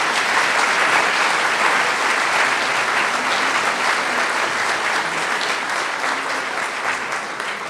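Sustained applause from a forum audience welcoming two speakers onto the stage, a steady dense clapping from a large crowd that holds throughout and tapers slightly at the end.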